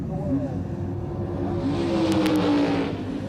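A 1970s Pro Stock drag race car, a Plymouth Barracuda among them, roars at high revs with a rising engine pitch, loud and sustained, while an announcer talks over it.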